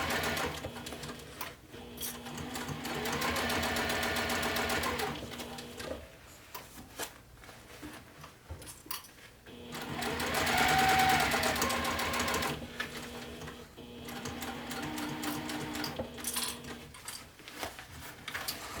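Domestic sewing machine stitching a Briamar bag close along the zipper teeth: runs of rapid, even mechanical whirring with pauses where the fabric is repositioned and turned, heard up close with soft handling sounds between stretches of sewing.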